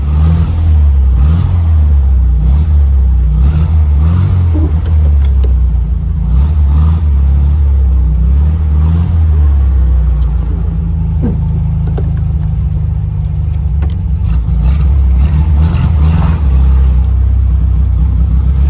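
A 1981 Sbarro Baby Ferrari driving, its small engine giving a loud, close, steady rumbling drone with slight rises in revs throughout and no one speaking.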